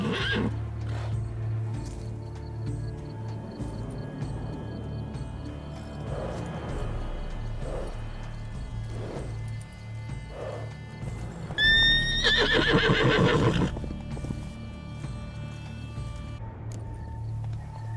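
A unicorn in The Witcher 3 video game gives a clear high neigh partway through, over soft clip-clop hooves, snorts and a low steady game ambience.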